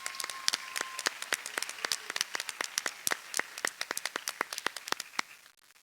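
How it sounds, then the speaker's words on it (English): An audience claps for a guest welcomed at an evening gathering, a crisp scattered applause of many separate hand claps, moderately close and steady, thinning slightly toward the end with no voices. "once again, a round of applause as we welcome Laura with us here tonight"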